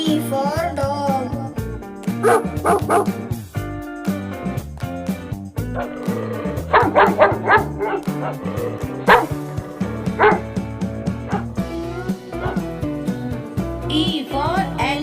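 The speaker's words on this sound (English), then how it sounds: "D for dog." Playful dog barks and yips, with a few whimpering notes, pop out in short bursts over an upbeat children's phonics song with singing and instrumental backing.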